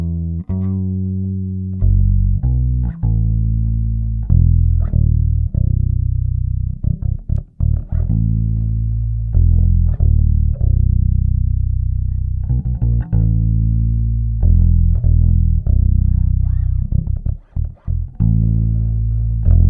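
A recorded bass guitar take loops on its own, sounding loud, deep and sustained, with a run of low notes and sharp plucked attacks throughout.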